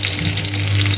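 Fresh fish sizzles and fries steadily in a pan, a dense close crackle under a low hum with no talking.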